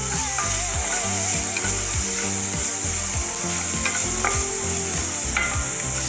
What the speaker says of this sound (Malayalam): ഇതും കൂടെ നന്നായി ഒന്ന് മിക്സ് ചെയ്ത് ഒന്ന് വഴറ്റിയെടുക്കുക.